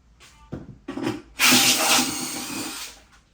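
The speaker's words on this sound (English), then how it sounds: "You're gonna drill that out. I'm gonna drill it out over a trash can." A power drill whirs in short bursts, then grinds loudly and steadily through a brass thread for about a second and a half before winding down.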